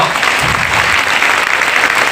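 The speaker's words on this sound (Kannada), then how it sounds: "ಇನ್ನೂ ಜೋರಾಗಿ ಚಪ್ಪಾಳೆ ಬರಬೇಕು." An audience at a ceremony claps loudly and densely in a dense, steady burst of applause lasting about two seconds.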